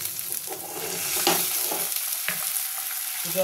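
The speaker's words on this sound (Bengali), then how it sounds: "এবার আমি একটু এর মধ্যে জল দিয়ে দেবো" Water poured into a pan of frying onion and garlic hisses and sizzles, a steady bubbling fry with a few stirring scrapes, close and moderately loud in a home kitchen.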